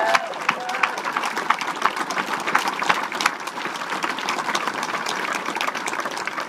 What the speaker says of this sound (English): So can we just give them another round of applause?